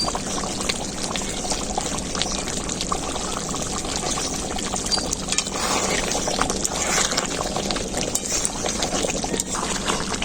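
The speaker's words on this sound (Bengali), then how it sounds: "মশলাটা আর একটু জল দিয়ে দিলে গ্রেভিটা ভালো হবে, তাই একটু জল দিয়ে দেবো।" Water poured into simmering chicken chaap gravy in a pan, a steady close splashing pour lasting about ten seconds without a break.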